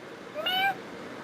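A cat gives a single short, faint meow in the background, a brief whiny call against quiet room hiss with no talking.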